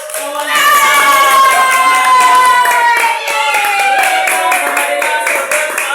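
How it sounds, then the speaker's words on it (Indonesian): Class of fifth-grade children clapping for a classmate during a lesson on light, a quick rhythmic group clap with voices and a sung chant over it, loud and close. "Iya, tepuk tangan buat kawan kita."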